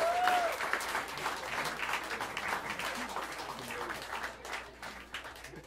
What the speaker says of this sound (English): A wonderful, wonderful round of applause, Mr. Dishan Harper.